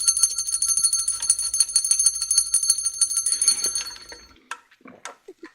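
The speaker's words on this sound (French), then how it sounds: "Je suis obligée de sonner la cloche de Kiki." Hand bell rung to mark a new shop order, a rapid bright metallic jangle repeated for about four seconds, then a few short clinks as it settles, with no talk.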